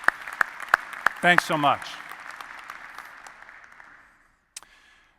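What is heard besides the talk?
audience round of applause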